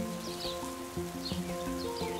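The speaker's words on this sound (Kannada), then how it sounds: "ಮಳೆ ಬೇರೆ ಬರ್ತಿತ್ತು" Cartoon rain patters faintly and steadily beneath a light musical score, the drops forming a soft background hiss with no speech.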